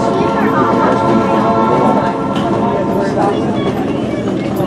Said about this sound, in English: It's a switcher type locomotive bobbing and weaving down the track